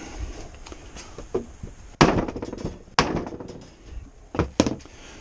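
A rubber hammer strikes a bicycle crank arm in a handful of sharp, irregular knocks, several loud and close with brief ringing decay, in a quiet workshop without talking.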